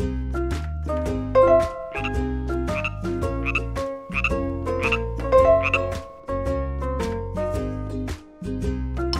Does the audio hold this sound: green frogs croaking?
yes